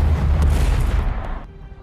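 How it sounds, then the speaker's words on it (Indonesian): Explosions tear through many parts of Gotham City, including a sports stadium, in a Batman film: a dense, loud, rumbling blast roars for about a second and a half, then quickly fades to a low tail. "terjadilah ledakan di banyak sekali bagian kota Gotham"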